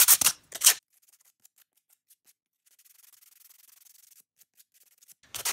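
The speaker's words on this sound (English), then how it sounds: "Ten minutes of sanding." Two loud rubbing strokes of sandpaper on a wooden climbing hold open and close the stretch, with a long quiet middle of faint, soft scratching between them.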